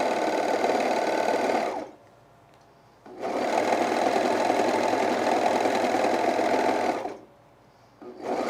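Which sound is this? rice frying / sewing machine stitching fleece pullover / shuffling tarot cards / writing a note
sewing machine stitching fleece pullover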